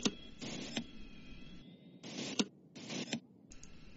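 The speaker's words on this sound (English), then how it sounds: "So that's the sound of the throttle moving." Throttle lever sliding in an X-Plane flight simulator cockpit, a series of short mechanical whirring and clicking bursts with brief pauses between them, fairly quiet and alone.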